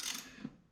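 A ratchet with a 10mm socket working a tight bolt on a compact tractor, one brief close metallic click-and-rasp that fades quickly.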